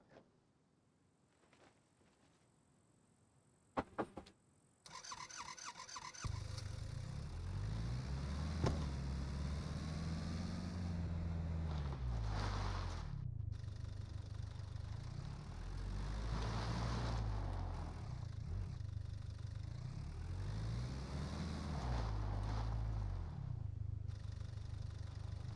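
A car being driven in a zombie survival video game, its engine starting after a few quiet clicks and then droning steadily with rising and falling revs as it speeds along, fairly loud with no talking.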